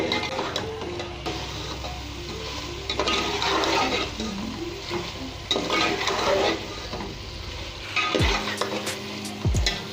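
Mutton fries in oil for a capsicum and mutton dish, making a rough, churning sizzle with stirring, scraping and occasional clatter of the pan that rises and falls in waves.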